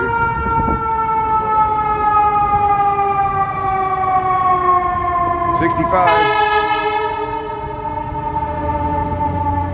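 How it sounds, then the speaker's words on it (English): A loud wailing ambulance siren sweeps steadily close by on a Chicago city street, its pitch dropping as it passes, with traffic rumble underneath. "Here comes the ambulance here."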